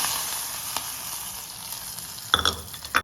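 Mustard seeds tempered in hot coconut oil are poured over curry leaves for an aviyal: a close, steady crackling sizzle that flares into sharper spattering bursts near the end.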